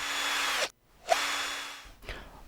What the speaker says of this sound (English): I've recorded the electric drill, and I've loaded those